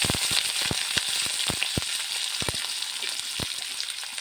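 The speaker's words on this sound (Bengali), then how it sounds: "আলু ফুলকপি ভাজা" Potato and cauliflower fry in a pan with a loud, dense sizzle, punctuated by sharp crackling pops and spatters at an uneven rhythm throughout.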